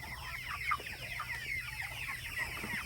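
Young meat chickens, under three weeks old and including cockerels, cluck and peep steadily in a pen, a busy continuous flock chatter at close range with no talk.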